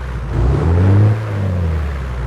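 Aerostar 600 aircraft engine in a flight simulator revving up during a cold start, a steady low droning roar that swells and then settles back to a constant hum, with no talking.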